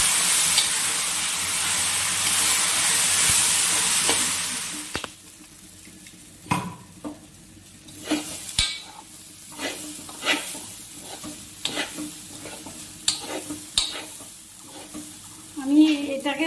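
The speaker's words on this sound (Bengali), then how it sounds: "এটাকে ভালো করে নাড়াচাড়া করে নেব। আর এটাকে ভালো করে ভেজে নেব 10-15 মিনিট।" Gobindobhog rice being fried and stirred in a pan for pilau: a strong hiss for the first few seconds, then a quieter sizzle under regular scraping strokes of a spatula, close by.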